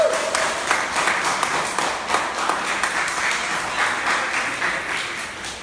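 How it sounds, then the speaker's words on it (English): Dense, steady applause from a large audience at a public forum in Manhattan fills the whole stretch, with overlapping claps and no pauses. "can you please hold down your applause?"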